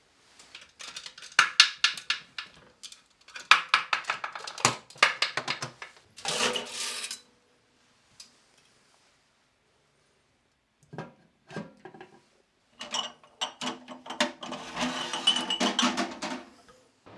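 Glass jars emptied and handled after sterilizing in a mushroom lab, giving bursts of clinking, rattling and knocking that come and go with quiet pauses between them, close and moderately loud.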